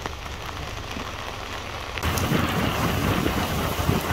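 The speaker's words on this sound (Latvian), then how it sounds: "Klāt esam un lietus arī ir klāt." Tropical rain in the Seychelles, a steady hiss of drops on surfaces that swells abruptly into a heavier, louder downpour halfway through, with no voices.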